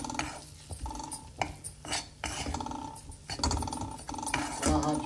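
A spoon stirs and scrapes wheat-flour sheera roasting in ghee in a pan, giving a run of close, uneven scraping strokes over a faint sizzle that goes on steadily.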